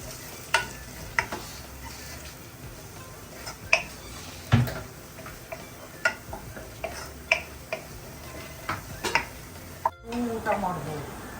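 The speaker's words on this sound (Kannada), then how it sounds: "ಇದು ಈಗ ಚೆನ್ನಾಗಿ ಫ್ರೈ ಆಗಬೇಕಲ್ಲ." Spices frying in a pan for crab sukka, a steady close sizzle with repeated ticking stirs and scrapes against the pan, running under faint background voices.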